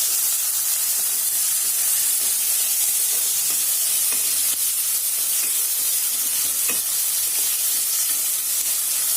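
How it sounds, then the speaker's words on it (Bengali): Steady, dense sizzling of onions frying in hot oil, a continuous crackling hiss with occasional stirring clicks, close and fairly loud. "পেঁয়াজগুলো ভাজা হচ্ছে"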